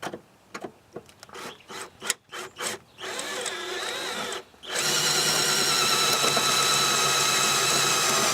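A power drill bores out a hole on a Subaru Forester during a UHF radio install, first in short stuttering bursts, then in a steady, loud whining run.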